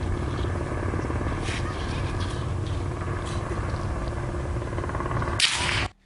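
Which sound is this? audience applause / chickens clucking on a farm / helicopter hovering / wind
helicopter hovering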